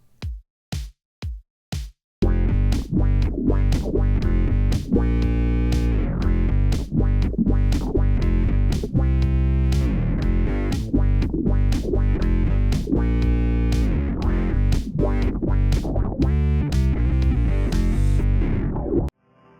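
Four count-in clicks, then a bass line through octave and envelope filter effects, thick and squelchy, playing a steady rhythmic pattern loudly with no voices.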